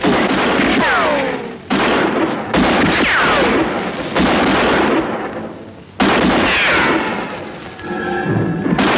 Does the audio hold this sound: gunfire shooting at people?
yes